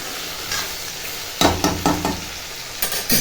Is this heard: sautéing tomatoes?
yes